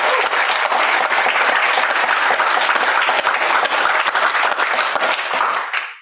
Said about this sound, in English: Can we start with a round of applause?